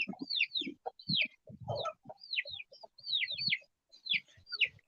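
Mixed-breed chickens at an Indian homestead cluck low and steadily while baby chicks cheep in high, repeated peeps over the top, all close and busy with no talking.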